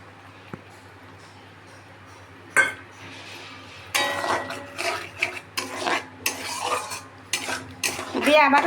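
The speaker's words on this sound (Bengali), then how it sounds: "বেশ কিছুক্ষণ নেড়ে নেব" Egg korma being stirred in a pan, with a utensil scraping and clattering against the metal in loud, irregular bursts after a quiet start, over a low hum, without talking.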